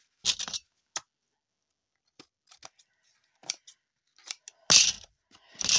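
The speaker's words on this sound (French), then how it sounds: "Je vais reprendre une paire de ciseaux." Scattered snips and crisp cuts of a pair of scissors, close and dry, in short irregular bursts with quiet gaps between, ending in a couple of louder sharp clips.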